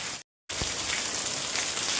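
Steady rain patters and hisses on a surface, broken by a short silent gap near the start.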